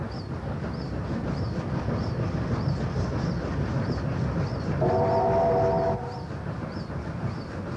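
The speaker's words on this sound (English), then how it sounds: "the first challenge for the two 38-class locomotives hauling the Western Endeavour" Two 38-class steam locomotives, including 3801, haul the Western Endeavour with a loud, steady rolling roar, rhythmic chuffing beats throughout, and a long whistle blast sounding in the middle.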